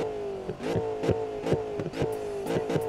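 A Toyota Supra engine in Need for Speed 2015 revs up and down in quick repeated bursts, a close, throaty idle broken by sharp blips and exhaust crackles.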